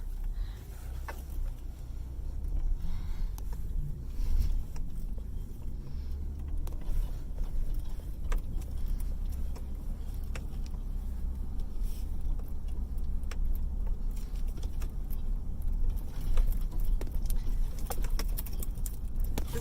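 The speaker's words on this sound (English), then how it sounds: "we're going to turn in here and drive up the road." A car rolls along a dirt road in the hills, turning in and driving up toward a meadow; a steady low engine and tire rumble with gravel crunches runs throughout, close and continuous, with no voices.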